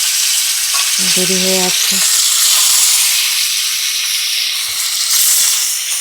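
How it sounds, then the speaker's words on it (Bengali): Fish frying in a pan gives a loud, close, continuous sizzle and hiss throughout, with a short spoken phrase early on and a few faint knocks later. "আমি কথা বলতে বলতে মাছটা ভেজে নিই"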